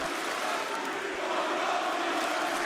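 A large wrestling arena crowd chants for Cody, a steady roaring mass of voices, loud and unbroken throughout.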